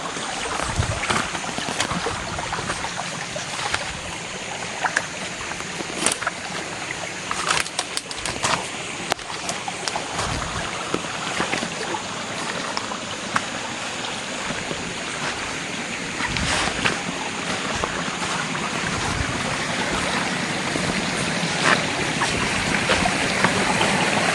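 Creek water flows steadily through a wooded area, a continuous rushing wash with scattered splashes and rustles close by, no talking.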